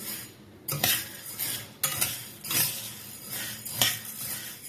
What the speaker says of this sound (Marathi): हे असे हलवत हलवत भाजून घ्यायचे आपल्याला